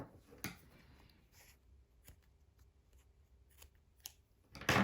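Scissors snip through yarn after a pink crocheted bonnet is finished: a few crisp, close cuts spaced across a quiet room, ending with one louder, sharper snip.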